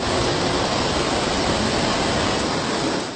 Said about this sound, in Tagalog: Rumaragasa ang tubig sa sapang ito.